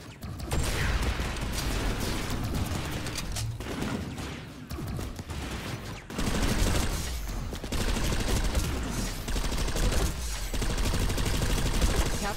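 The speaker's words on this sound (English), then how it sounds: "Take them out using your rocket launcher or light machine gun." Continuous video game battle gunfire from a rocket launcher or light machine gun against an armored exosuit, a dense loud barrage of rapid shots and blasts with mechanical clatter and no break.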